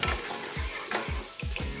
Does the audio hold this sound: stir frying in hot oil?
yes